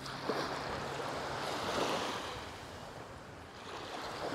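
Gentle ocean surf washes onto the beach at Palm Beach, Aruba, a soft continuous hiss of breaking waves with light wind noise, fairly faint and with no voices.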